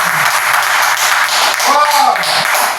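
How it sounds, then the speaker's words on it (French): Church audience applauding together, a dense steady patter of clapping filling the room, with excited voices and a rising whoop or cheer mixed in near the middle. "Est-ce qu'on peut applaudir pour le souvenir?"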